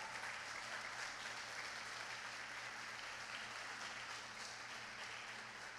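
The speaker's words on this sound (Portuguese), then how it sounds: "queria que vocês honrassem a família do pastor Gustavo com um aplauso ao Senhor." A church congregation applauds during a service, a dense, even roar of clapping sustained for several seconds, fairly quiet overall with a low steady hum underneath.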